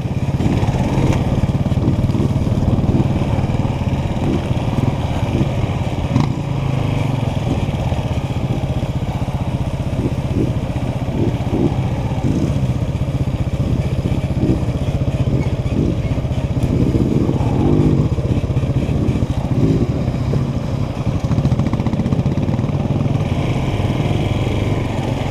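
Air-cooled dirt bikes, a Suzuki DR350 and a Honda Scrambler 160, idle close by off-road with a loud, steady, rumbling chug that runs unbroken throughout, with faint talk now and then.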